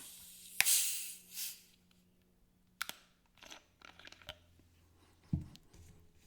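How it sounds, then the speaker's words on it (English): Gum chewed up close in a garage: soft, sporadic wet smacks and crunchy bites with short pauses between them. There is no talking over the chewing. "I'll just be doing a little bit of a gum chewing ramble"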